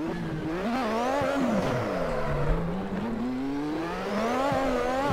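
A Lotus 98T turbo Formula 1 car in Assetto Corsa at Spa Francorchamps, its loud, close engine note rising and falling as the throttle comes on and off between corners.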